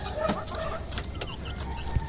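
Backyard chickens waiting for fresh petchay greens, clucking in short bursts close by over a busy, noisy background, with no one talking.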